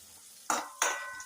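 Chili powder frying in oil for a dried-bean stir-fry, with two quick scrapes of a spoon against the pan, each a short, close clatter over a faint sizzle.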